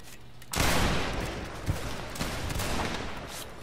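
A musket volley fires in the Napoleonic Wars mode of the Mount & Blade: Warband video game during a siege battle. A sudden burst of overlapping gunshots crackles, then trails into scattered shots and a dense roaring rumble.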